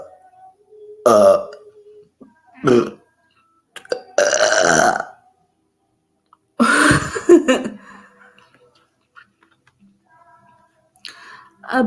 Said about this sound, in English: I got the burps.